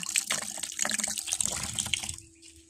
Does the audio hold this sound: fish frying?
no